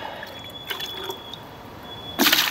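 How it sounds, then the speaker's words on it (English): Cold water drips and trickles into a mix of chemical cracking agent for breaking hard rock, a faint steady pour with a sharper splash toward the end. "Yeah, 10 kilos of goo, I want 3 litres of water."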